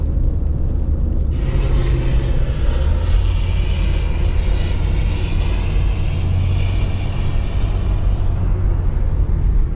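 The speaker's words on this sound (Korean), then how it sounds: "비행기가 착륙하는 장면이네요" An airliner lands at Clark airport, heard as a loud, continuous jet engine roar with a rising whine on top of low rumble, heard over car road noise from a nearby highway, with no talking.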